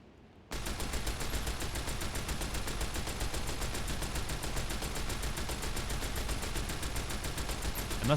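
Continuous rapid automatic gunfire from a heavy machine gun in Fallout's The Divide, a dense unbroken stream of shots that starts abruptly after a short quiet lead-in and holds steady and loud to the end.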